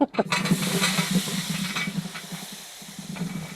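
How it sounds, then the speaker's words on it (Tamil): Eggplant pieces frying in oil in a pan for an oily brinjal side dish, a steady close sizzle with occasional stirring scrapes running throughout, loudest at the start and easing slightly toward the end. "இப்போ நம்ம கத்திரிக்காய் போட்டுருக்கோம்"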